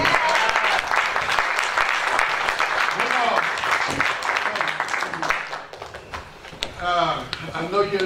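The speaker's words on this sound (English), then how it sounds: "But wonderful round of applause" Audience applause fills a branch library concert hall after a jazz performance, a dense, steady roar of clapping that thins out near the end as a voice starts speaking.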